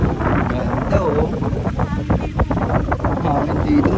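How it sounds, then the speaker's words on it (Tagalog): Gusty beach wind batters the microphone on Boracay, a loud, uneven low roar that rises and falls throughout, with a voice talking partly under it. "Ang hangin dito guys."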